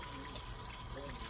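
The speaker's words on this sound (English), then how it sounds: "Let me rinse my hands off." Water runs steadily from a kitchen tap as hands are rinsed, a continuous broadband splash filling the whole moment at close range.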